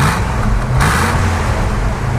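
A 1966 Ford Mustang GT engine running close by with a steady, loud, deep exhaust rumble throughout, idling up with no distinct rev peaks and no talking.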